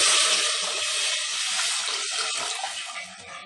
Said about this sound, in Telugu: ఇప్పుడు ఇందులోకి వాటర్ వేసుకోవాలి